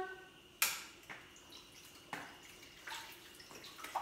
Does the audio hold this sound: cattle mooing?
no